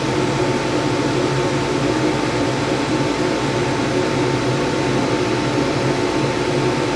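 A laser cutter cuts holes in magnet material, giving a constant whirring hum and hiss, like an exhaust fan or air assist, steady and unbroken throughout.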